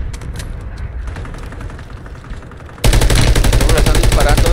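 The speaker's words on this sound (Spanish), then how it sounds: "Me están disparando desde abajito." Rapid automatic gunfire in a shooter video game (Warzone Resurgence mode), bursting loudly and continuously, growing denser and louder in the final stretch with dense overlapping shots.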